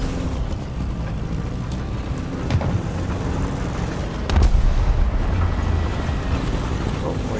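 Cannon fire from a BT-5 tank in the War Thunder ground battle game, with a couple of booming shots over a steady engine rumble and a heavier blast standing out near the middle.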